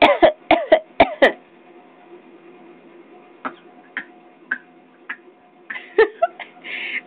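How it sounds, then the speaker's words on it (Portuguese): A five-month-old baby girl coughing: a quick run of five sharp little coughs, then quieter scattered coughs and throat sounds after a pause, close and clear against a quiet room. "Deixa eu ver a tosse"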